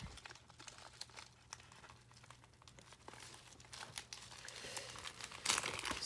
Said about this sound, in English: So let's rip this open here.